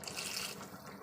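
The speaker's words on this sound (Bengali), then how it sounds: "চলুন আরও অল্প একটু জল দিয়ে দিই, খুব অল্প করে জল দিয়ে দেবো" Water is poured in a thin stream into a cooking pot, a brief soft splashing trickle that stays faint and close.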